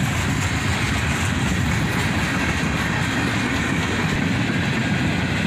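A freight train of tank cars passes nearby, a continuous loud rolling rumble of wheels on rail with light rhythmic clatter and no voices.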